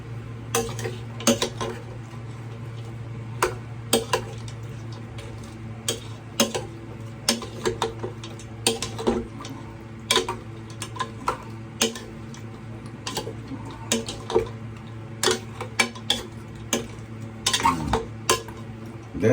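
A utensil stirs food in a cooking pot, giving irregular metallic clinks and scrapes against the pot over a steady low hum, close and fairly quiet.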